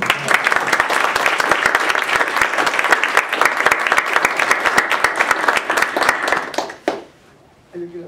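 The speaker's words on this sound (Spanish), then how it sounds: "Un aplauso para Giuseppe, por favor" A seated audience at a Spanish creative writing event applauds to welcome a guest speaker, dense sustained clapping for about seven seconds, then it fades and a voice begins.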